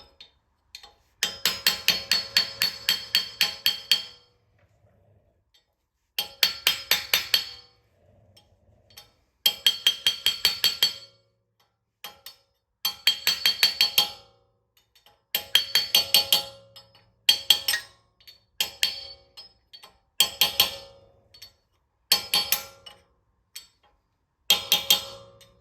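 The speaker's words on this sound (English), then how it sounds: "Use a punch, just punch that lip." A hammer drives a punch against the lip of a cap during a Toyota 4Runner, Tacoma or FJ Cruiser differential repair, in rapid metallic bursts of ringing strikes separated by short pauses, close and sharp.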